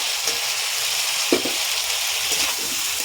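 Tomatoes hit hot oil in a pan for a Bengali rohu fish curry with drumsticks and potato, giving a loud steady sizzle and frying hiss with a few brief stirring bumps.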